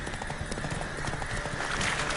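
Horse hooves gallop in a rapid, steady clip-clop rhythm during PS4 gameplay, with a brief whinny and faint game background noise underneath.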